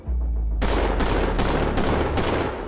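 A GPMG machine gun fires belt-fed rounds at a target 600 metres away on a range, in five or six loud rapid bursts of automatic fire.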